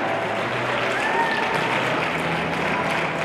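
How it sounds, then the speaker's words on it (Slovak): Steady audience applause fills an indoor hall at a dog show, a dense continuous wash of clapping from the crowd with no voices standing out. "Určite sa mladé dámy potešia potlesku a podpore"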